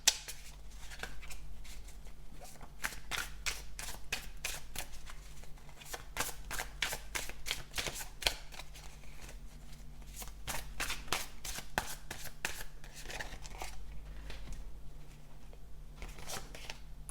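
Tarot cards taken out and shuffled by hand, a quick run of crisp riffling flicks in bursts, close and fairly quiet over a low steady hum.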